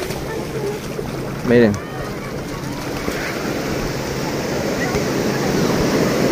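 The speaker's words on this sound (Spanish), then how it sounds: "El oleaje está precioso, amigos." Ocean surf at Puerto Marqués beach washes in a steady, broad rush of breaking waves, with a voice briefly speaking over it.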